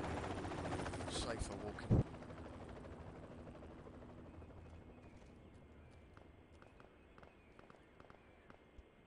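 A Blackhawk helicopter in the military game Project Reality thrums steadily underneath, fading gradually. A sharp thud sounds early, footsteps patter throughout, and a player speaks briefly over it.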